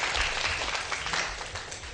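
Audience applause at a voter outreach session, a brief burst of scattered clapping from a crowd, fairly faint and fading slightly over two seconds.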